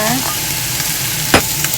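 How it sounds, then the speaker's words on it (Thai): Chicken and bamboo shoots being stir-fried in a little oil: a steady close sizzle with scraping strokes of a spatula or ladle against the pan, one sharper scrape standing out near the end. "ใส่หน่อไม้ลงไปผัดเลยนะคะ"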